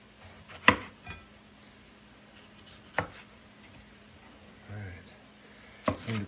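A knife chopping Roma tomatoes into quarters on a cutting board, for a taco salad, with a few distinct thuds spaced seconds apart and quiet kitchen noise between them.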